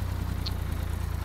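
A tractor engine idles in the video game Apocalypse Rising, a steady low, throbbing rumble held evenly for a moment, with no other sounds.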